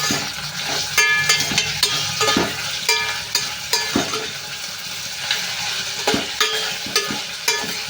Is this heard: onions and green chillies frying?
yes